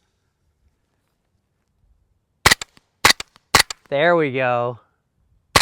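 Suppressed 9mm shots from a carbine fitted with a Rugged Obsidian 9 modular silencer and firing Fiocchi ammunition: three sharp, loud cracks about half a second apart, then a short spoken remark and a final faint click.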